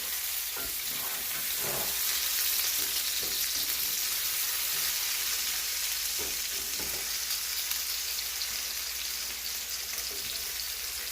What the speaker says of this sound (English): so our potatoes have been frying for a few minutes.